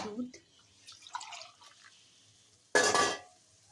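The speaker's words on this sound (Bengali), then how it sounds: "দুধটা দিয়ে দিলাম।" Milk is poured into a rice pudding with bottle gourd, giving a brief, close liquid splash burst near the end after quiet kitchen sounds and faint drips.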